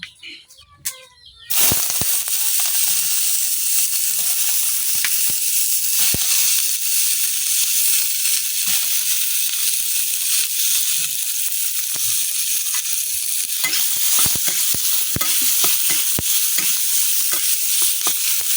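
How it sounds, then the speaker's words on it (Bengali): Onion and garlic frying in a pan for a Netrokona-style sidol dish, a loud steady sizzle lasting throughout with occasional stirring scrapes, no talking over it. "এখন আমি লাল লাল করে পেঁয়াজ রসুন বাজে দিলাম পেঁয়াজ রসুনটা কিন্তু বাজা হয়ে গেছে"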